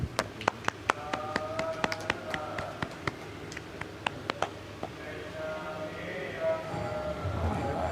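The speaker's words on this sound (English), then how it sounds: "Make clap." Scattered, sharp hand claps ring out irregularly at a morning Hari Katha gathering in Vrindavan. The claps are fairly quiet against low background murmur and thin out after about five seconds.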